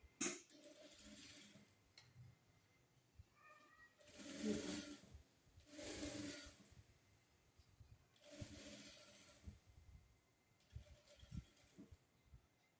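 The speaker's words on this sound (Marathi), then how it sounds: "ह्याच्यावर शिलाई मारायची जेणेकरून हे पूर्ण व्यवस्थित गळ्याचा आकार येईल" A sewing machine stitches the neckline of a blouse lining in several short runs separated by pauses, each a soft, rapid whirring burst in a quiet room.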